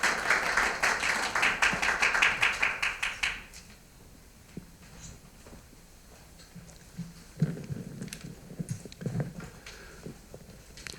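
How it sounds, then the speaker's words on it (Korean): An audience at an ecological justice seminar held by a Korean church council gives a burst of clapping as the general secretary comes up to speak. The applause is fairly loud for about three seconds, then fades into quiet room noise with faint shuffling and small bumps. "우리 박승렬 총무님 나오실 때 큰 박수 부탁드립니다."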